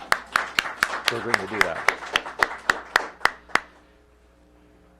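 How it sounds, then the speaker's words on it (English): A round of applause from a small crowd at a public COVID-19 vaccination event for DC first responders, about a dozen sharp, evenly spaced claps that fade out, with someone speaking briefly over the start. "So I want to give her a round of applause"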